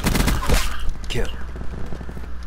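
Rapid gunfire bursts from a gun in Black Ops 4, loud and close, with sharp cracks over a busy game background and some voice-like sounds mixed in.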